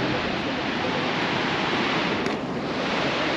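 Gibbon Falls at Yellowstone pours a steady, dense broadband roar of falling water, loud and close, with no break or change across the whole stretch and no voices.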